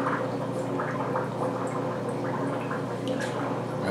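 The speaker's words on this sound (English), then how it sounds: "and rinse it out in the tank water" An aquarium filter sponge is rinsed and squeezed in a container of tank water, giving steady close sloshing, gurgling and dripping throughout without speech.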